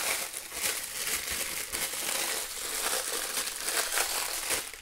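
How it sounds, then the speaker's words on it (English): Crinkly plastic wrap pulled off a package of EL wire, a close, continuous crackling and rustling of thin plastic with no talking. "Get rid of this crinkly wrap."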